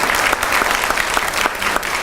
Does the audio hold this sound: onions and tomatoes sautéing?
no